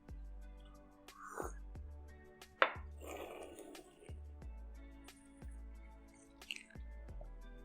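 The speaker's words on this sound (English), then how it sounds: "if you kind of like pull the tea along the top and the sides of your tongue with bubbles" Someone slurps sweet tea, pulling it with bubbles over the top and sides of the tongue: a few short wet slurps and squishes spread through a quiet stretch, one sharper burst in the middle, close and soft.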